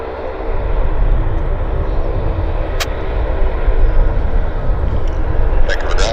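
A United airliner on approach into Vancouver Airport, inbound from Washington Dulles, a loud sustained jet roar with low rumble, steady throughout with wind in the background.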